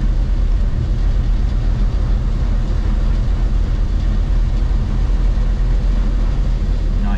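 A Wartburg 311 engine drones steadily as the car climbs uphill in a low gear, a constant low rumble with road and cabin noise filling the whole stretch.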